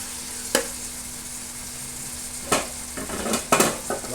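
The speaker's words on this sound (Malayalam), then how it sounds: "ചെറിയ ചൂടിലാണ്ട് നമ്മ ഇത് സവാള വയറ്റുന്നു" Sliced onions sautéing on low heat for a chicken curry, heard as a soft continuous sizzle broken by a few sharp spatula scrapes and stirs against the pan, close and clear.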